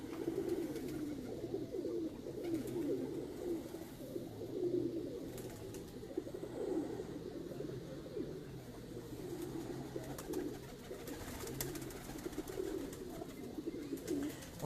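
Pigeons cooing steadily from a rooftop during a one-day pigeon-flying tournament, soft overlapping coos in a continuous low murmur, no talk.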